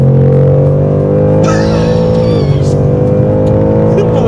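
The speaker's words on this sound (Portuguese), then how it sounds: "E aceleração tem, torque tem também. Potência, 483 cavalos" A Ford Mustang Mach 1 with 483 horsepower accelerates hard on a short straight, its V8 engine note loud and close, climbing steadily in pitch with a brief shift midway, running continuously throughout.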